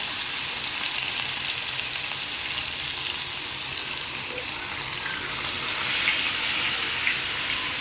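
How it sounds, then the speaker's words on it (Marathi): Papad frying in hot oil at home, a loud, continuous close sizzle with a bright hiss and small crackles that holds steady throughout. "तर या बघा मस्त बघा कशी तलतं"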